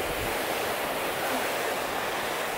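Sea waves break on a rocky shore with a constant broad wash of surf and some wind noise, loud and close, with no voices.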